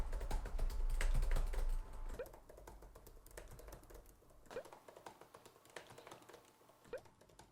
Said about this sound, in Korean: 지금 치는 키보드 소리 같은 경우에 다른 마이크들에는 또 많이 들어갔을 것 같아요